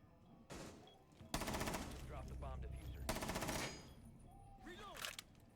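Bursts of automatic gunfire from the tactical shooter Rainbow Six Siege during a collegiate esports match, two loud sustained volleys with sparse shots between, fairly close.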